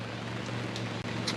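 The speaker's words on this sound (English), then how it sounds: "It's actually raining this time, which hence awnings out." Rain falls outside around a van camp with an awning put out, a steady hiss of drops with a few sharper taps and a low constant hum underneath, no voices.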